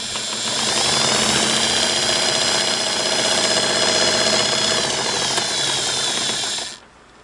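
Singer Model 99K sewing machine running on a foot pedal, a continuous close mechanical whirr with fast rhythmic needle clatter for about six and a half seconds before it stops abruptly.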